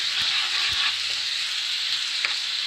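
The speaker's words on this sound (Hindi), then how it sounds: "अभी मैं इसमें जिंजर और जार्लिक का पेस्ट डाल रही हूँ" Onions, green chilies and ginger-garlic paste fry in a pan for a chicken gravy, giving a steady, close, loud sizzle with a few faint stirring knocks and no talking.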